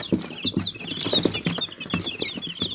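Chicks cheep and cluck in a busy, overlapping chorus, with soft peeping and low clucks close by.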